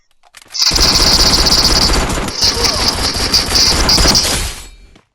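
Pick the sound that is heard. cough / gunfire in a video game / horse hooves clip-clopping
gunfire in a video game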